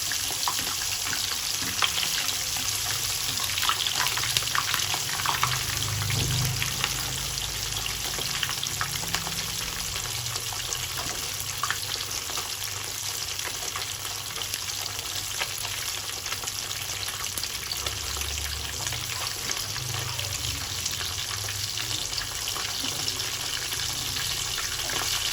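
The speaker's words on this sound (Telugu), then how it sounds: "ఇలా ఒక్కొక్కటి నీట్గా వేయించుకోండి, కొత్తగా వేగుతాయి, తిప్పుకోవడానికి వీలుగా ఉంటుంది." Fish pieces fry steadily in a pan with a constant, close hiss and crackle of sizzling oil, broken by faint low bumps of handling, no voices.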